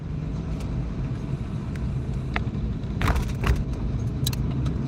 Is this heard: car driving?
yes